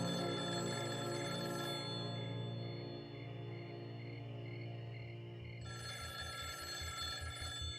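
Telephone from the 1983 film Cujo ringing on and on, a steady electric bell tone with repeating pulses, heard alone and fairly faint without any voices.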